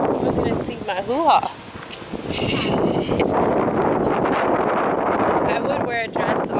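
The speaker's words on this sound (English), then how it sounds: "Why does it have to be so windy?" Blustery wind buffets the microphone throughout, rumbling and gusting under voices talking nearby at an outdoor Fourth of July family event.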